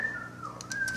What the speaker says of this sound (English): sorry for the whistling, that's my brother.